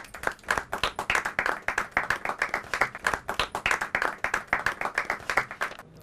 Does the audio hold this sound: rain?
no